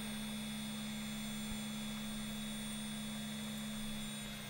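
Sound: 2.2 kW VFD spindle motor running

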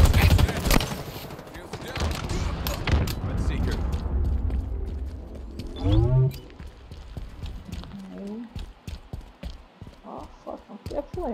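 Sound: gunfire in the video game Halo Infinite

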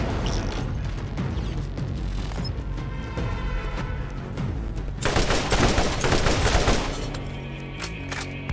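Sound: close range machine gun firing in the video game Borderlands

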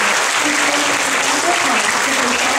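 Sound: warm applause welcoming a professor to the stage

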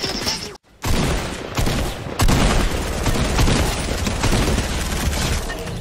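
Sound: gunfire from golden guns in video game Fortnite

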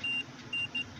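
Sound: multimeter buzzer beeping during diode check

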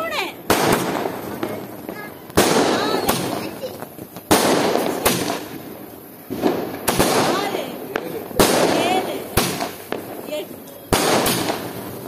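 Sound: multi-color sky shot fireworks during Diwali

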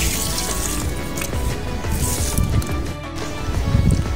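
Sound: watering potted plants, water pouring and dripping

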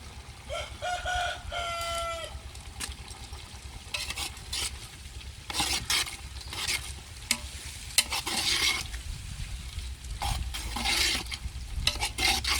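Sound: stirring and cooking keema mixture in pan

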